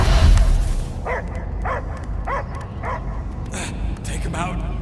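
A dog in the Guardians of the Galaxy video game gives a series of about six evenly spaced barks and yips over a low rumbling game backdrop.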